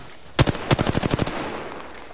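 Gunfire in the video game Apex Legends, a loud close single shot followed by a rapid burst of about eight automatic rounds, fading into quiet game ambience.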